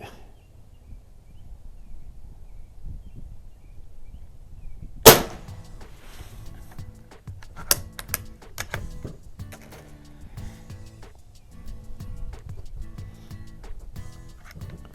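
A Crosman model 180 air rifle at an outdoor range gives one sharp, loud shot, followed by a few quieter metallic clicks and clunks of handling and cocking over a low background rumble.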